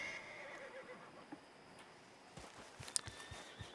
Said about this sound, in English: That horse.